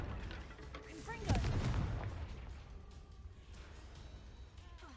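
In Hogwarts Legacy, a Confringo blasting spell bursts with a single loud crack and rumbling explosion, followed by fading debris and ambient game noise, with a voice speaking near the start.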